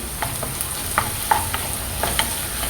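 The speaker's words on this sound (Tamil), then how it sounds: "இதெல்லாம் எல்லாத்தையும் சேர்த்து ஒரு 2 நிமிஷம் வதக்கிக்கலாம்" Vegetables with carrot, curry leaves and a splash of soy sauce sautéing for paneer fried rice, a continuous pan sizzle punctuated by several sharp spatula scrapes and taps, close and without voices.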